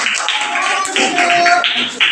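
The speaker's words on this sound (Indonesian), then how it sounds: "tepuk tangan buat kita semua" A class of children claps together in short, rhythmic bursts of hands, loud and close, with some voices mixed in.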